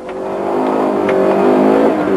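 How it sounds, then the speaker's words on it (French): Alfa Romeo Alfasud GTI from 1984 pulling away hard from a hill-climb start, its engine note loud and close, climbing steadily in pitch as it accelerates with no gaps. "L'Alpha Sud a pris la première le départ. On a vu les réactions provoquées dans le volant par l'accélération brutale au démarrage."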